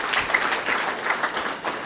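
An audience at a Brahma Kumaris Diwali event in Bhusawal applauds to welcome a guest, a dense, steady patter of many hands clapping at moderate loudness.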